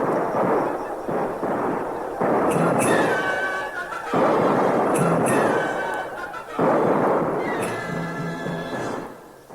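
A dramatized battle scene with musket volleys, loud sharp reports cracking out in several bursts over a dense roar of shouting, horse whinnies and commotion.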